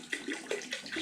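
Water runs into a pot to steep grain for home-brewed beer, a close, steady splashing pour with shifting gurgles.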